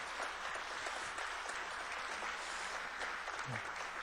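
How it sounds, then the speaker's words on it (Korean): A church congregation at a spring revival service claps steadily in thanks after a sermon, a continuous even round of applause throughout with a brief voice near the end. "우리 박수로 고마움 표시하겠습니다."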